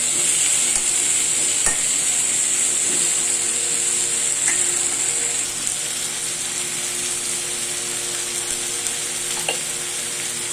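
Ingredients for tomato kurma sautéing in a pan; a steady, bright sizzle continues throughout, with occasional faint scrapes and taps of a stirring utensil and no talking.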